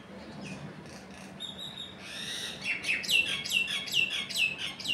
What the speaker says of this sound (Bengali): শুনতে পাচ্ছেন পাখিদের আওয়াজ,